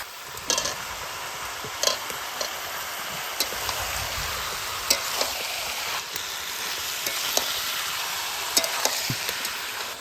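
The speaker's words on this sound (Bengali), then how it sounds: "হালকা করে সব নাড়ে নিয়ে এই সময় দিদিমা হচ্ছে টমেটো কুচি" Chicken curry with chopped tomato stirred in a frying pan, a steady sizzle throughout with scraping clinks of the spoon at irregular intervals, fairly close and alone without talk.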